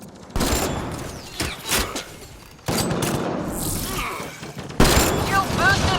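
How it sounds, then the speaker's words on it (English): Rapid bursts of gunfire in a Mass Effect: Andromeda firefight, loud and close, with dense volleys broken by short gaps and a voice calling out over the shooting. "Shooting as fast as I can!"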